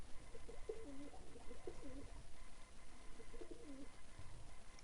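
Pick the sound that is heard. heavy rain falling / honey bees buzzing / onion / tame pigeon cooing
tame pigeon cooing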